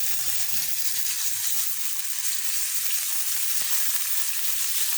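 Meat stir-frying in a couple of teaspoons of palm oil for fried rice gives a steady, close hiss and crackle of sizzling, with a few faint stirring knocks and no talk.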